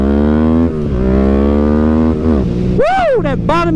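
A street-tuned motorcycle engine revs loudly up close, holding a deep, gravelly throttle pull that dips and climbs again, while a voice exclaims excitedly over it near the end.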